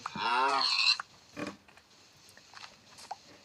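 A pig grunts and oinks in the Minecraft video game, one clear, close oink at the start followed by softer grunting snorts and small clicks, with no talk.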